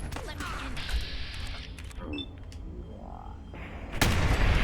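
Pipe weapon gunfire in Fallout 4 pops in sharp, scattered bursts amid a busy combat soundscape, with a heavier blast near the end and a voice talking over parts of the fight.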